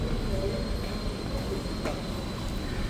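Argo Merbabu executive-class passenger train running between Semarang and Jakarta, heard from inside the carriage as a steady, loud rumble of wheels on rails with a faint metallic squeal.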